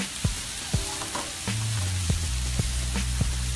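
Onions frying on a Blackstone griddle, a loud broad sizzle punctuated by sharp spatula taps and scrapes on the flat metal surface, with a low hum rising partway through.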